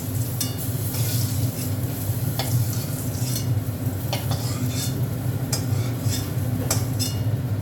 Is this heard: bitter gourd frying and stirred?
yes